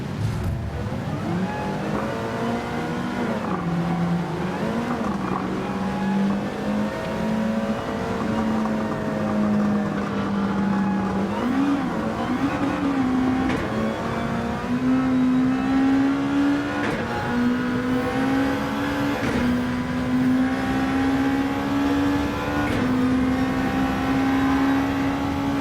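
A Gran Turismo 7 race car engine drones steadily and loudly through a daily online race, pitch rising and dipping with throttle and gear changes as the car brakes into the Porsche curves.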